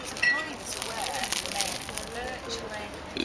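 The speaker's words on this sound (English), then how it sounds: "Good bread is found by the way it crackles." Crusty bread being broken apart by hand gives a close, dry crackling that runs steadily through the moment, with faint voices in the background.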